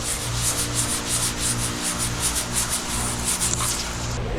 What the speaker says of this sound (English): just doing a little bit of wet sanding with the 5000 just to get some of that haze off of there